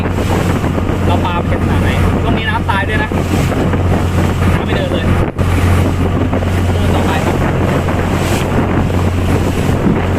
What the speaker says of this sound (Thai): ขึ้นลมขนาดนี้